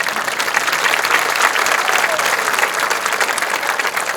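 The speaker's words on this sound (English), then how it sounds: "Give yourself a round of applause." A graduating high school class of 2019 and their audience applaud at a commencement ceremony, loud, dense and sustained clapping from a large crowd with no letup.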